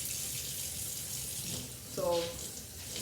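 Tap water runs into a kitchen sink while cups of water are measured for cooking yellow rice, a faint, steady rushing under a brief spoken word, with a short squeaky tonal sound midway.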